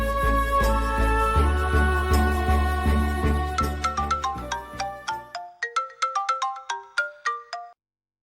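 A mobile phone ringtone plays a repeating bright melodic chime over a soft backing, which drops away halfway while the tinkling notes continue alone and then stop abruptly.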